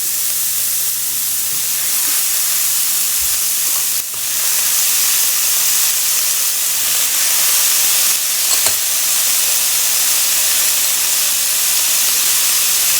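Chopped onion and potatoes fry in a pot over the heat, giving a steady, loud hiss and sizzle that holds unbroken for the whole stretch. Only a few small clinks or stirring bumps stand out, and no one speaks.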